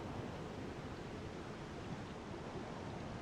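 Rushing waterfall water in Elden Ring, a steady, even wash of noise with no breaks, faint and continuous throughout.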